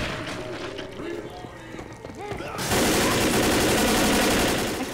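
Gunfire in the video game Left 4 Dead: a dense, loud burst of rapid shots fills the second half, after a stretch of people talking over quieter game sounds.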